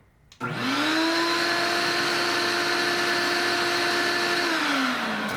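A workshop vacuum fitted with a hose extension starts abruptly and runs at a steady, loud whine for several seconds, its pitch holding level before dropping slightly as it winds down near the end.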